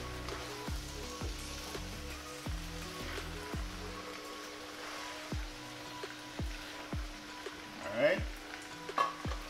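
Ackee and saltfish frying in a pan while being stirred, a quiet steady sizzle broken by regular tapping knocks of a spoon against the pan, with scraping near the end, close and fairly soft.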